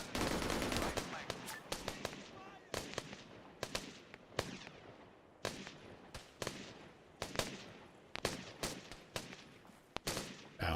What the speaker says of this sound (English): I don't see who they're shooting at.